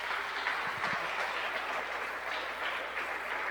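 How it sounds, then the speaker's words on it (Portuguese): Church congregation clapping during an evening celebration service, a steady dense wash of applause held at an even level throughout, with no voices standing out. "Aplauda o Senhor"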